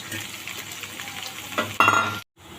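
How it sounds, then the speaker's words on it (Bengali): Salted, turmeric-coated potatoes and onion fry in a kadai with a steady close sizzle, stirred, then a sharper hiss near the end before a sudden cutoff. "আলুটা একটু ভাজা ভাজা হওয়ার পর এর মধ্যে আমি পেঁয়াজ দিয়ে দেবো"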